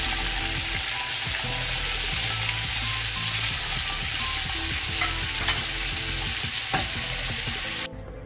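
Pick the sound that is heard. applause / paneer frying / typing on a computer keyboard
paneer frying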